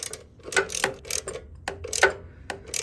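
A ratchet tightens the oil tank bolts on a 2013 Harley-Davidson Heritage Softail, quick bursts of close metallic clicking in an uneven rhythm with brief pauses between strokes.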